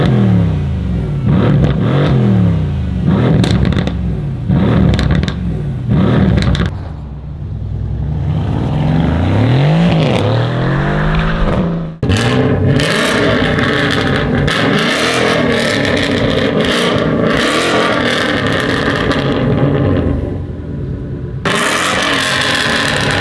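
A loud Mercedes C63 S V8 with a muffler delete revs repeatedly, roaring up and dropping back, then settles into a deep, rumbling idle before revving again.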